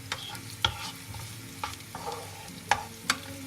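Garlic and onions frying in olive oil with a truffle mixture on a gas stove, a soft steady sizzle under several crisp clacks of a utensil stirring in the pan, close and moderately quiet.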